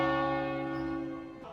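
A single resonant bell tone hangs in the air, steady and loud before gradually fading toward the end, with nothing else heard alongside.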